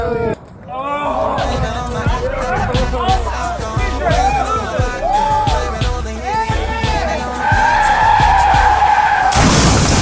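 A car skids and screeches through a late night drive, tires squealing in repeated sweeping bursts over a steady loud engine roar, with voices faintly in the mix.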